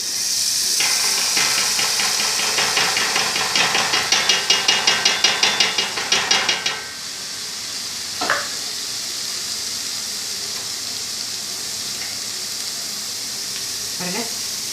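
Kara boondi batter drops into hot oil and sizzles sharply, with a burst of rapid crackling and tapping for several seconds, then the frying settles into a quieter, steady hiss.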